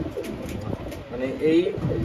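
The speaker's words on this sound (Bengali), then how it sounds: "এ জায়গায় আছে 2 জোড়া আছে হলো 128 কবুতর। আর এর ভিতরে একটা কবুতর আছে হলো ওমান টেডি।" Breeding pigeons, one an Oman Teddy, coo briefly in a low burbling phrase near the end, faint under a voice and background noise.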